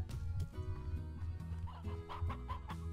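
Briar hens from the Slime Rancher video game cluck continuously in a close, busy chorus of chicken-like calls over a steady game background.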